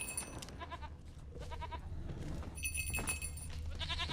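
Goat in the video game Witcher 3: Wild Hunt bleating in short nasal calls, three or four distinct bleats spaced through the clip over a low ambient game background.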